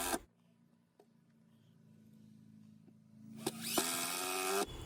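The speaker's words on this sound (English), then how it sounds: "we're going to go ahead and install our new longer 2-inch deck screws" A power driver sinking 2-inch deck screws into deck boards, with a low humming motor drone that builds and ends in a loud whining burst as a screw seats, plus a few light clicks, no talk.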